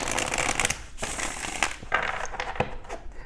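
Tarot cards from Golden Art Nouveau and Spirit Song decks being shuffled up close, a dense papery riffle with several sharp slaps and bursts over a few seconds, with no voice.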